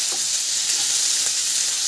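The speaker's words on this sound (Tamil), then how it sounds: "இப்போ தக்காளியும் சேர்த்து நல்லா வதங்கி வரட்டும்" Onions and tomatoes sizzle steadily in a pan for fish curry, a close, even hiss with faint stirring taps.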